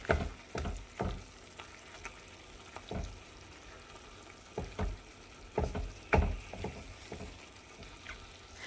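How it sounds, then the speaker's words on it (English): Cream cheese and drained Rotel get broken apart and mixed in a pan: irregular scraping and wet stirring strokes, close and fairly quiet, with a faint sizzle between them. "Now I'm going to break apart the cream cheese and combine everything together."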